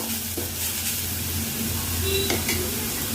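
Carrot rice frying and being stirred in a pan: a steady sizzle with scraping stir strokes and a brief clink of a utensil, close and continuous, with no talking.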